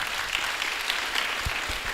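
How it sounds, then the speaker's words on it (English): An indoor hall audience at a university student recruitment road show applauds steadily for students, a dense, continuous clapping that stays even and fairly loud throughout. "Applause for you guys."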